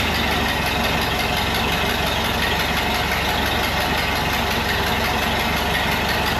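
A 1931 Ford Model A engine idles steadily and loudly up close, an even low rumble throughout with no voices.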